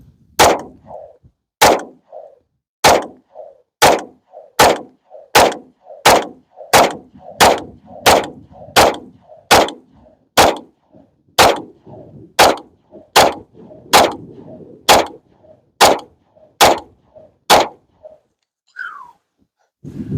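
Canik TTI Combat pistol fired in a long string of about twenty evenly spaced, loud, sharp gunshots, close to the listener, with a faint pause near the end.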